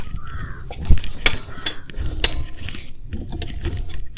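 A spanner loosening the wheel nut on a car during a flat tyre change, giving close ratcheting clicks and metallic turning sounds in short bursts, with outdoor background noise and occasional bird calls.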